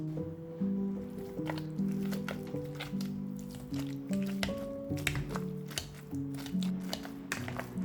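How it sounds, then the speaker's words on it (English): Boiled potatoes with butter and milk mashed by hand in a pot, soft wet squishing and squelching strokes repeated in an uneven rhythm, close and quiet, with light background music. "Pour in half a cup of milk and start mashing to a smooth consistency."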